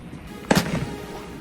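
A single loud Fourth of July firework bursts nearby over a Compton street, a sharp crack with a brief rumbling tail, then quiet outdoor ambience.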